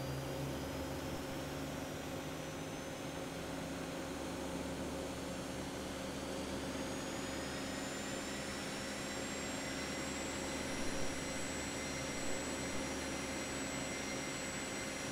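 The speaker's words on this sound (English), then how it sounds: "And now we may start engines." Jet engines on a simulated airliner with FADEC push-button starts spool up in the X-Plane 11 flight simulator, heard as a steady, even whine with a rising tonal hum and a low background drone, continuous and moderately quiet, with no talking.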